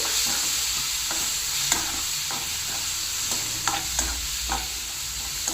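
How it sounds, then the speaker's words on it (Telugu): Thinly sliced, salted onions fry in a pan with a steady, loud sizzle throughout, while a spatula stirs them and scrapes the pan now and then. "ఈ ఉల్లిపాయలు కూడా బాగా వేగాలి"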